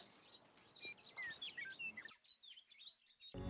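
Small birds chirp and tweet in busy overlapping calls while grain is scattered for them, thinning to sparse faint calls midway before a brief louder burst at the end.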